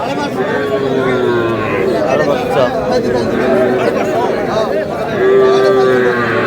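Young bull calves low at a busy cattle market, their drawn-out moos rising over a constant crowd chatter with nearby voices talking throughout.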